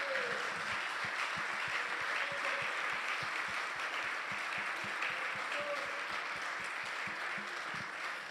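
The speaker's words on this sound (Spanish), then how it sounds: "Dale ese aplauso fuerte para él" A large church congregation applauds a preacher, dense steady clapping filling the whole stretch at an even level, with faint background voices mixed in.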